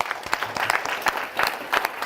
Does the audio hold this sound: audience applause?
yes